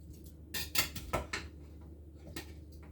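A spoon scraping and knocking inside a pot of scouse stew as it is stirred, a few quiet clinks and scrapes close by, no talking.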